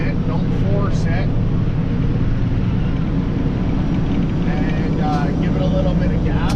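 A truck with an Eaton Fuller 18-speed transmission runs with a loud, steady low engine drone throughout, and someone speaks intermittently over it.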